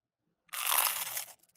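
A single loud bite into a prawn cracker gives a dry, crisp crunch lasting under a second, close to the mic, followed by a few faint crumbly crackles, with no speech.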